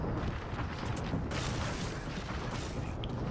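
Bangalore's ultimate artillery strike in Apex Legends rumbles as a dense roll of booming blasts, with sharper detonations standing out over a constant low thunder of explosions.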